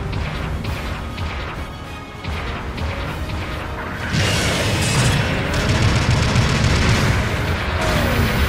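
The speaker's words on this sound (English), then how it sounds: "Supporting fire incoming." Supporting artillery fire in the Gundam Battle Operation 2 video game, a run of booming crashes and explosions that swell louder midway and keep rumbling alongside game sound effects.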